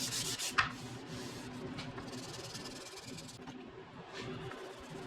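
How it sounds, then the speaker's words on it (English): Light hand sanding of a polyurethane-coated wooden clock surface with 320 grit paper makes soft, repeated rubbing and hissing strokes, faint and close in an otherwise quiet room. "I'll give all the poly surfaces a light sanding with a 320 grit paper."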